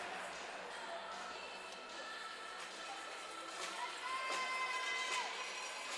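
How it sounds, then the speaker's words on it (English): Fans cheering at a ringette game, a broad crowd roar in an arena with scattered shouts and sharp taps, held at moderate distance throughout with occasional louder bursts. "And you can hear the BC fans cheering on their team."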